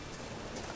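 Steady rain in The Witcher 3 game hisses and patters evenly, a dense wash of drops with no pauses and no voices.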